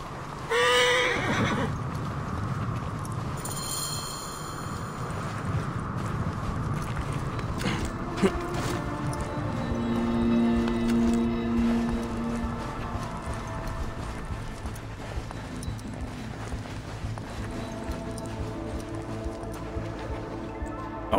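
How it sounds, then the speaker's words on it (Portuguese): A horse in Assassin's Creed Origins neighs and whinnies loudly near the start, followed by hoof clip-clops over a dense game soundtrack of ambient music and effects running throughout. "Deve ser o cavalo que os ladrões usaram para fugir."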